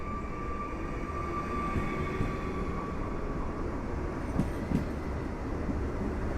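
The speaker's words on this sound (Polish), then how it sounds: "A jesteśmy na peronie piątym." A loud, continuous low rumble of a train on a railway station platform in Warsaw, with a faint steady whine above it and a few soft knocks, no voices.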